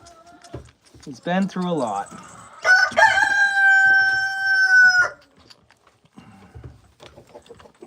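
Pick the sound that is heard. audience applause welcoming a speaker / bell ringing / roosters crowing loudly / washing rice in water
roosters crowing loudly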